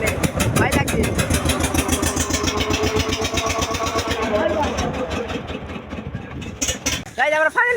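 A boat engine runs loud and close with a steady, rapidly pulsing throb that fades somewhat toward the end, where a voice briefly breaks in.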